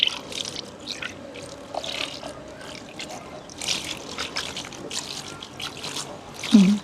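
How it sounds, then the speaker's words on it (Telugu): Water is poured slowly from close by onto a newly planted cutting, giving a soft, uneven trickle that drips on for several seconds, with brief murmurs of voice now and then. "ఇప్పుడైతే వాటర్ అయితే మెల్లిగా పోసుకోవాలి"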